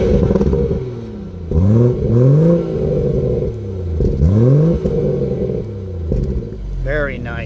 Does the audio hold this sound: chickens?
no